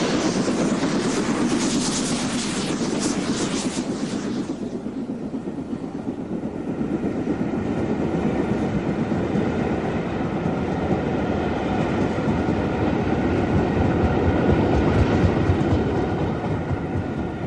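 An LMS Princess steam locomotive hauling a train rolls past continuously on British Rail's North West Coast Express, with a loud rumbling roar and rhythmic clatter of wheels on track, steady throughout.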